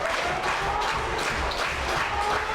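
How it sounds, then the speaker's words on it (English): Wrestling crowd at an indoor show clapping and stomping their feet, a fairly faint, steady roar of many hands and feet blending into a continuous rumble with no voices on top. "Crowd stomping their feet and clapping their hands already"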